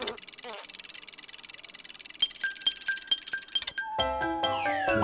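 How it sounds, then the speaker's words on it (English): A home time bell in an In the Night Garden cartoon rings in bright, tinkling chimes that repeat in an even rhythm, then sweep down into a cascade of musical tones, close and clear. "The home time bell."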